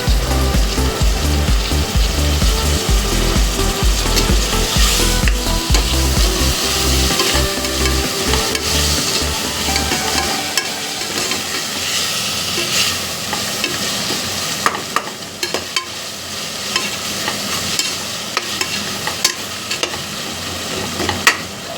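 Cut tomatoes go into a hot pan for veg biryani and are stirred, producing loud, continuous sizzling with steady scraping of a spoon against the pan and no talk.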